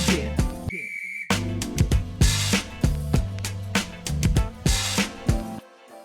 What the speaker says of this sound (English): on the sound of the whistle